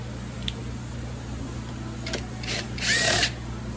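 A T27 Torx driver works on the carburetor bolts of an Echo PB 580T blower, with a few short metallic clicks and a brief buzzing whir over a steady engine-like hum.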